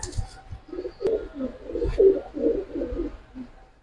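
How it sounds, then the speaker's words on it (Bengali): An Afsan Bagha silver pigeon coos close by in a run of soft, rounded notes that rise and fall steadily, with no talk over it. "একদম অরিজিনাল আফসান বাগা কবুতর"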